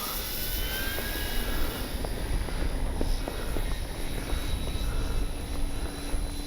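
A radio-controlled F4U Corsair warbird model plane flies overhead, its engine a continuous whining drone that rises and falls slightly as it passes, with no talking.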